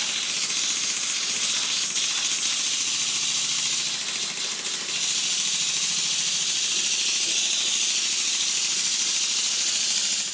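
A Stuart model steam engine running on compressed air at 40 psi chuffs and hisses steadily with rapid mechanical clicking, a continuous airy exhaust running throughout without pause.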